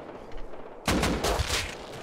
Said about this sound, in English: Oh, headshot with a pistol.